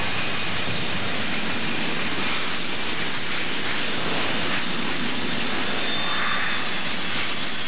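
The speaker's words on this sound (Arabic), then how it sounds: "طائرة بوينغ 747 تهبط في المطار" A loud, steady roar of a Boeing 747 landing, a broad continuous rush of jet engine noise with no pauses, close and filling the whole stretch.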